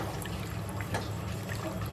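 Water pours into a pasta pot in a home kitchen, a steady close trickle and splash running continuously with slight surges.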